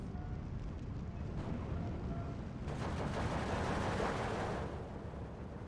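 Off-map artillery strike in the WWII strategy game Steel Division 2, a dense rumbling barrage of distant blasts that swells in the middle and fades, with no voices over it.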